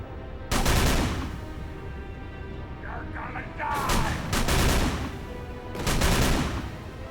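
Bursts of gunfire in the game Call of Cthulhu: Dark Corners of the Earth, three loud rattling volleys spaced a couple of seconds apart, with a brief mechanical clatter between them.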